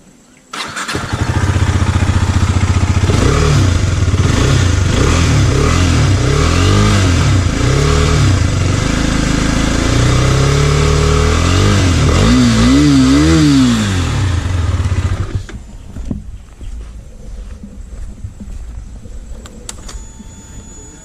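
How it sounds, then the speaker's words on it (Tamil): KTM Duke 250 single-cylinder motorcycle with twin-barrel exhaust revving hard at close range: loud repeated throttle blips rising and falling for about fifteen seconds, then cutting off to quiet background. "KTM டைப்லேயே கொஞ்சம் வந்து டிஃப்ரெண்ட்டாக வருது இது லவுட்னஸ்ஸு ட்வின் பேரல்னால"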